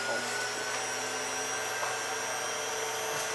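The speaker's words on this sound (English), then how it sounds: "I'm gonna go ahead and vacuum seal my hand on this one just to really show you guys its power" A vacuum sealing machine runs with a loud, steady, continuous whooshing hum that holds without a break throughout.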